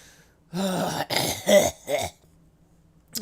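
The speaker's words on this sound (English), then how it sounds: "Clear my throat there for a moment." A male streamer clears his throat close to the microphone with a few harsh, gravelly rasps in quick succession, followed by quiet and a brief final noise.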